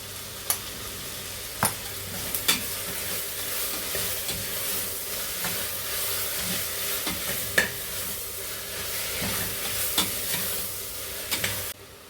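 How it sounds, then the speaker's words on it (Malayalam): Sautéing onions sizzle steadily in a pan with crushed ginger, green chili, coriander leaves, mint and garlic for Thalasseri mutton biryani, with sharp spatula taps and scrapes recurring every second or so. "ഈ വഴന്ന് വരുന്ന ഉള്ളിലേക്ക് ചതച്ചെടുത്ത ഈ സാധനങ്ങൾ ഇട്ട് കൊടുക്കണം."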